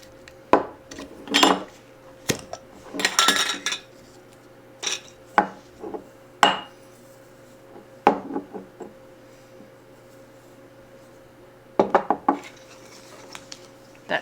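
Dried herbs, including thyme, go into a clean glass jar, making a series of sharp clinks, taps and rustles at irregular intervals over a steady low hum, with no talk.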